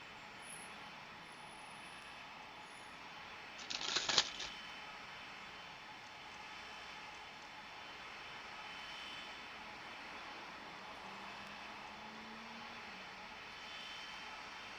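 In the Tower! Simulator 3 airport game at Cincinnati, a heavy cargo jet rolls for takeoff on runway 27, its engines a steady distant roar that holds throughout, with a brief sharp burst early on.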